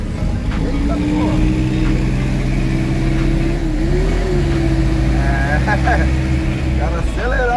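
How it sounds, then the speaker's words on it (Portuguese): A small tractor engine revs steadily and loudly nearby at a construction site, its droning pitch rising and falling, with people talking over it. "acelerando um tratorzinho ali"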